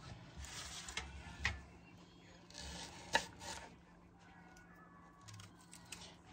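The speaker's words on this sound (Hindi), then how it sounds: "जल्दी से हम प्याज काट देते हैं।" Onions, peeled and cut quickly with a knife while preparing mutton dum biryani in a village kitchen, giving faint, irregular cutting and slicing sounds with a few sharper knocks against the board.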